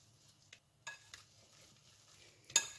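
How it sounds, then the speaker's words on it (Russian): A spoon stirs grated zucchini with salt in a bowl, giving a few quiet, sparse scrapes and one sharper clink near the end. "И теперь хорошенько перемешиваем"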